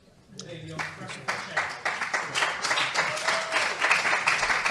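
A live podcast audience applauds, the clapping rising fast and holding as a dense, loud wash, with a few voices calling out from the crowd.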